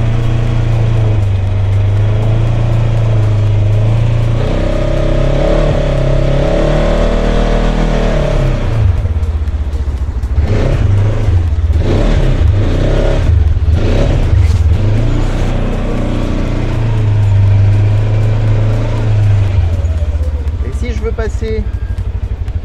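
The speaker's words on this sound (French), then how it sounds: "On va passer la manière la plus simple en 4 roues motrices et on va descendre dans cette zone de franchissement." A 4x4 vehicle in four-wheel drive descends into an off-road crossing area, its engine droning loudly up close with rising and falling revs and some clunks midway, while someone talks over it.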